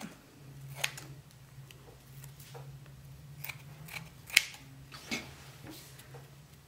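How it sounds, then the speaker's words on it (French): Scissors snip paper while cutting around a paper spider web for a Halloween craft, a series of short crisp cuts, close and fairly quiet, with a steady low hum underneath. "je vais venir découper une partie ici qui ira donc derrière ma toile d'araignée"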